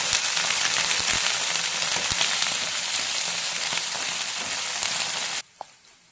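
Spring onion bulbs with cumin, mustard seeds, urad dal and dried red chillies frying in hot oil in a village kitchen, a loud steady sizzle that runs unbroken for about five seconds, then cuts off abruptly to near silence with one faint clink.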